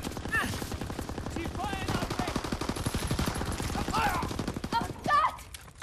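Rapid automatic gunfire in Call of Duty WWII online play, a dense continuous stream of shots with brief gaps, fairly loud, with voices shouting over the firing.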